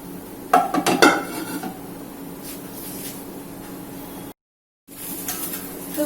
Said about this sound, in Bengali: আরেকটা ফ্রাই প্যান রাখছি